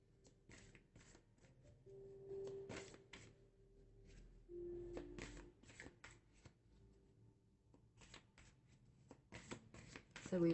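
Tarot cards being shuffled in a series of crisp riffling and flicking bursts, close by and fairly quiet, with a soft voice speaking intermittently between and under the shuffles.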